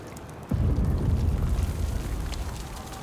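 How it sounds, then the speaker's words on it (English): A spell explosion in Last Epoch bursts with a sudden deep boom, then a rumbling, crackling tail that slowly fades over a few seconds. "Creates three successful larger explosions. Each explosion deals more damage than the last."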